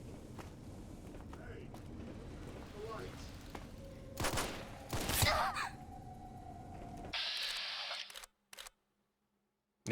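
A gunshot fired at a skeleton head in the Fallout video game, a sharp burst with a brief rattle of reports near the middle, set over steady game ambience and followed by a sustained hum before the sound cuts out.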